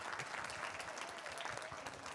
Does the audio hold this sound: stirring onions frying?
no